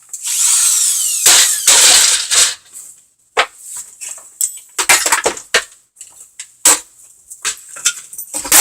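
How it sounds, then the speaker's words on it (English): A power drill runs in short, loud bursts up close, starting and stopping repeatedly amid clattering of tools and scrap. "so let's get the drill"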